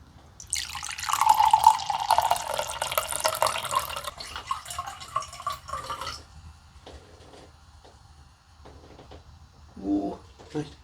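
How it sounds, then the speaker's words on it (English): Homemade malt beer pours gently from a bottle into a glass with a steady trickle and light fizz that thins and stops, followed by a few small clinks and drips. "Ooh, nice gentle pour there."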